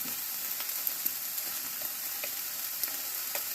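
Food frying in a hot iron skillet, heard as a soft continuous sizzle with small crackling pops, fairly quiet and close, with no voices.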